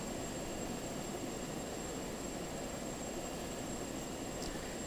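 Jet plane in the video game Just Cause 2, a steady, dense roar of engine noise that stays loud and unbroken throughout with no talk over it.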